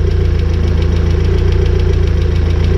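A BMW E36 car engine idles loudly and steadily, with a fast, regular ticking running through the low rumble the whole time.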